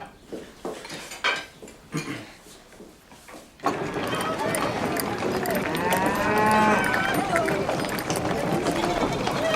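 Cattle and other farm animals leave for market on a French farm: after a few seconds of clattering and voices, a loud, continuous mass of lowing, moos and animal calls fills the rest, close and busy.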